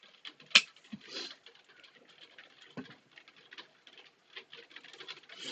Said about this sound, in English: And it's raining really hard.